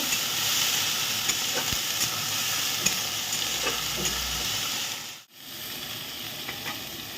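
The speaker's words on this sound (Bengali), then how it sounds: "পেঁয়াজটা ভালো করে একটু ভেজে নেব।" Onion paste frying in a hot pan, giving a steady, close hiss and sizzle that runs throughout, with a brief dip near the end before the sizzle returns.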